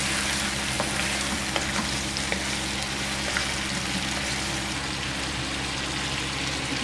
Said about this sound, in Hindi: चिकन को थोड़ा सा फ्राई कर लेंगे।